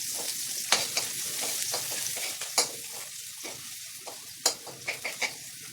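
Garlic sautéing in a hot pan with onion for a Filipino ginisang pechay with sardines, a steady close sizzle broken by sharp scraping stirs and clatters of the spatula.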